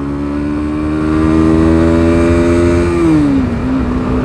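A Bajaj Pulsar NS160 BS4 160cc motorcycle carrying a pillion rider accelerates hard in first gear, its steady loud engine drone climbing in pitch and then dipping briefly near the end as the revs shift, with no one talking.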